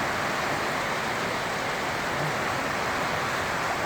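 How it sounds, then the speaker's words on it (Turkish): Heavy rain pours down steadily outside a balcony, a dense, even hiss of falling water that fills the space without pause and is heard alone at moderate level. "Çok güzel yağmur var arkadaşlar."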